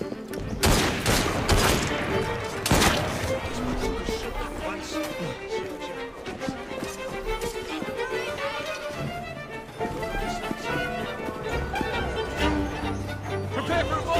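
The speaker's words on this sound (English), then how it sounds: "Prepare for a volley!" Dense volleys of gunfire fill a combat scene in the video game Assassin's Creed Syndicate: loud, overlapping shots in rapid bursts, with heavy cracks near the start and a steady barrage continuing throughout, and voices heard at times.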